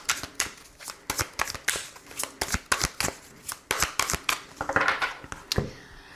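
Tarot cards are shuffled by hand in quick, close, crisp riffling bursts that repeat steadily for several seconds, with no talking.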